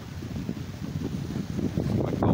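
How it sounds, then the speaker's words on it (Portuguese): Strong northwest wind gusts buffet the microphone on the coast at Guarujá, a steady low rumbling roar that swells slightly toward the end, with no voices. "O vento tá muito forte"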